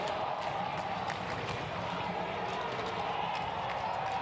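Steady stadium crowd murmur at a SEA Games 2019 men's football match between the Philippines and Myanmar at Rizal Memorial, a continuous noisy wash of many voices with scattered shouts, filling the whole stretch.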